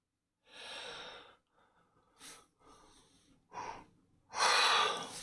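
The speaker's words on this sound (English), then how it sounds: "My gosh, cannot stop yawning." Someone lets out a series of long, drawn breathy yawns and sighs, quiet and close, with pauses between them before a final louder exhale.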